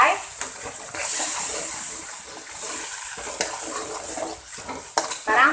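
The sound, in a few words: sautéing spice paste for Betawi lontong sayur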